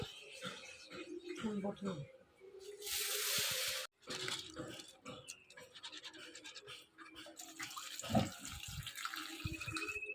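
Water pours into a pot of lentils for dal in a home kitchen, a dense rushing splash lasting a couple of seconds, surrounded by scraping, clattering utensils and someone talking.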